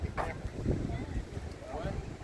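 Wind gusts buffet the microphone at a seaside port at Mers-les-Bains, a rough, low rumble beside boats, with a voice partly heard beneath.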